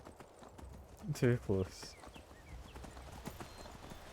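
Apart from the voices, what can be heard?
horse hooves clip-clopping in video game Skyrim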